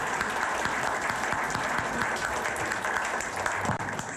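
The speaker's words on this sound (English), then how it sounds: "and now we can applaud." Steady audience applause fills a school board forum, many hands clapping at once in a dense, even wash that holds at a moderate level for several seconds.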